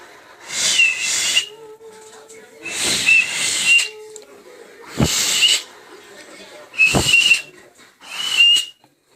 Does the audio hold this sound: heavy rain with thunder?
no